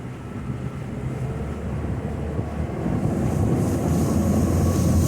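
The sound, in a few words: motorboat accelerating onto plane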